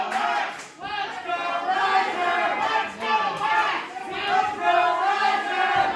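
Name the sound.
crowd cheering for wrestler Riser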